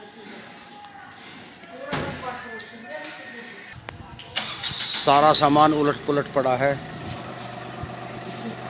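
A farm tractor starts up and revs as it is driven into a house out of the rainy weather, with mechanical clunks and a squeal near the end, while someone talks over it.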